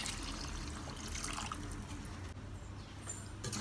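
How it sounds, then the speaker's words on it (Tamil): Water poured into a pot of soaked rice and chicken for white biryani, a steady continuous trickle and splash running the whole time at moderate level, with no talking. "தண்ணி வந்து நான் சேர்த்துக்கிறேன்."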